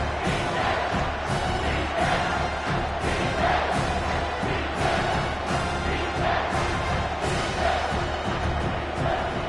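A stadium crowd in an NCAA college football video game roars steadily on a big third down, a dense continuous wall of cheering that swells in waves, with a few thuds underneath and no speech over it.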